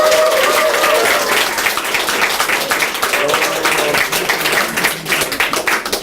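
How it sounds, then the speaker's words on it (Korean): Loud, dense applause from a packed audience crowded into a small campaign office at the opening ceremony of a candidate's election headquarters, steady clapping filling the whole stretch with a few scattered voices. "여러분들의 뜨거운 박수와 함께 시작하겠습니다"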